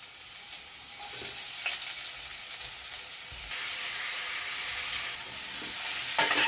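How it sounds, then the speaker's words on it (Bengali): Young jackfruit frying in hot oil for a mutton-style jackfruit kalia gives a loud, steady sizzle close up, with a few brief stirring clatters and no voices. "এরপর এই তেলের মধ্যে আমি এঁচোড়টাকে দিয়ে দেব।"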